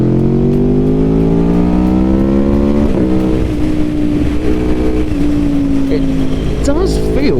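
A 2021 Aprilia Tuono V4 Factory motorcycle engine revs hard and loud, climbing in pitch under acceleration, then dipping and holding as gears shift, with wind roar throughout.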